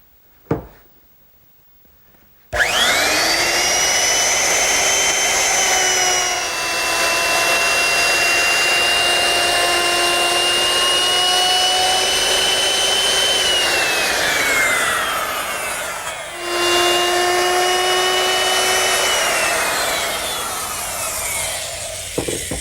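A router whines loudly as its bit molds the edges of a wooden standing mirror frame along a guide fence, a long sustained high-pitched scream that dips briefly midway, then resumes and winds down.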